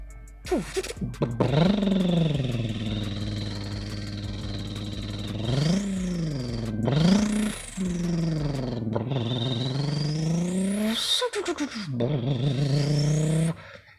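A voice imitates a Subaru turbo whistle, making rising and falling whines and revving sweeps several times over, close and loud.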